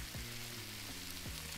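Food sizzling in a pan in the video game Cooking Simulator, a steady faint frying hiss with a few soft repeating tones underneath, no talk.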